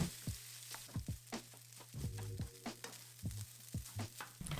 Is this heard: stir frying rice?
yes